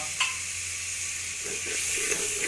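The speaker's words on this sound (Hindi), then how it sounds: "हमने इसके अंदर घी ऐड कर दिया। उसके बाद हमने 2 प्याज ऐड करने हैं।" Two onions sizzle in hot ghee with a steady, close frying hiss and soft crackles throughout, and no talking.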